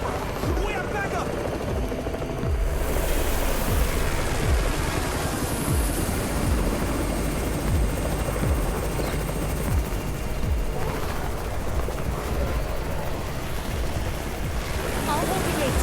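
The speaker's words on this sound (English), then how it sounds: "It's the Raven's chopper! We have backup!" A helicopter in the zombie survival game Undawn drones overhead with a steady rotor roar mixed with wind and surf-like noise, while voices talk over it throughout.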